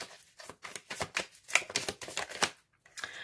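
Tarot cards are cut and shuffled in quick, crisp riffling bursts, close and distinct with short gaps between, ending after a brief pause; no talking.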